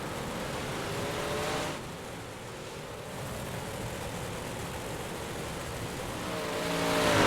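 Race cars circle the track at Lanier during a hot lap session before the feature race, a steady distant engine roar and wash of motor noise that swells slightly toward the end.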